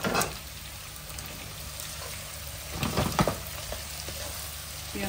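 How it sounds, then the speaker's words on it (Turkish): Meatballs sizzle steadily in hot oil in a pan, with a constant crackling hiss and occasional louder pops and stirring sounds. "Hemen köftelerimi döküp onları da kızartacağım."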